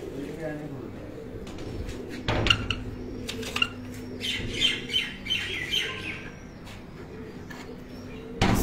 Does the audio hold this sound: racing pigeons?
yes